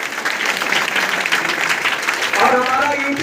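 Audience applause at a meeting program in Basti, a dense steady burst of clapping filling the room, with voices starting to speak over it near the end.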